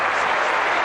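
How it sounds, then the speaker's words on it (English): A stadium crowd at the 1982 Commonwealth Games applauds a long jump by decathlete Daley Thompson, a dense, steady wash of clapping from a large crowd, loud and even for under a second. "And the crowd appreciating this superb athlete."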